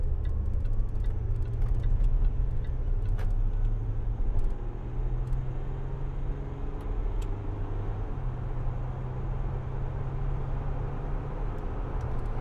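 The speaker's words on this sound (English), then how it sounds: "Nice and smooth acceleration, nice and quiet." A Land Rover Discovery 4 3.0 SDV6 HSE accelerates smoothly, the diesel engine a low, steady, subdued hum heard from inside the cabin, with faint ticking and road noise and no talking.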